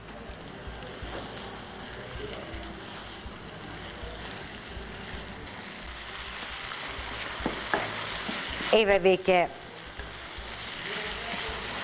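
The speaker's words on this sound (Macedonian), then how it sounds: "И тоа полека да си се испржи и ќе му ги додадам сите зачини." Minced meat frying in a pan for a broccoli and cauliflower moussaka, a steady soft sizzle throughout with a brief louder clatter near the end, as someone speaks a few words.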